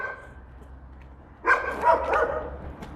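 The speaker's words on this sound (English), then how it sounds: "Those dogs are mad at me." Several dogs bark in an outdoor setting, a quiet stretch giving way to a cluster of loud barks around the middle, followed by a few scattered, fainter yips.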